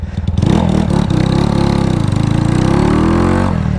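A Honda Titan 250cc motorcycle with a quickened carburetor runs loud and close, its engine leaking compression. It drones in a steady, throbbing chug for several seconds and cuts off abruptly at the end.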